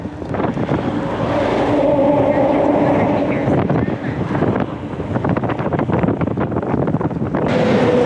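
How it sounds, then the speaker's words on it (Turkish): Heavy wind buffets the microphone of a cyclist riding a long road stretch near İğneada, a loud, continuous roar that surges and dips, with traffic or vehicle rumble mixed in. "Rüzgar çok fazla."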